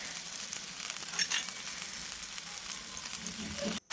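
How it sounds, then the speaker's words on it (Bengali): Green mango simmers in a pan with sugarcane jaggery, making a steady close bubbling sizzle that goes on without pause, with no talk over it. "আমটা ততক্ষণে প্রায় অনেকটাই সেদ্ধ হয়ে এসছে।"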